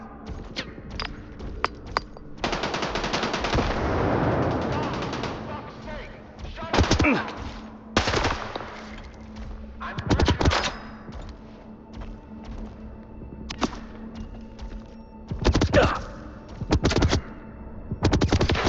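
Gunfire in the video game S.T.A.L.K.E.R. 2 comes in repeated loud bursts, automatic fire and single shots with thumps scattered across a tense firefight, and muffled voices can be heard between volleys.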